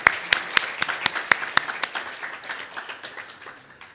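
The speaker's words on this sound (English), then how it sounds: "Big round of the applause" A small audience claps for panel participants at a youth cooperation event, starting with crisp, distinct near claps that thin out and fade gradually over four seconds.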